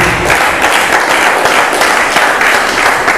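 Dense, loud applause from a church congregation, many hands clapping steadily and evenly with no break and no voices on top.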